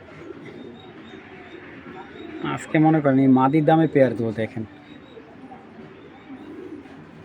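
Caged breeding pigeons coo softly in the background at a pigeon market, faint and continuous before and after someone speaks loudly close by.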